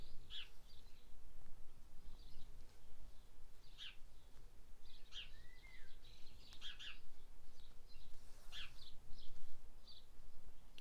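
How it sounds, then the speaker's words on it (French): Small birds chirp through an open skylight window of a workshop, short high scattered tweets at intervals, fairly distant and faint over a quiet room hush. "J'ai les petits oiseaux qui sont avec moi."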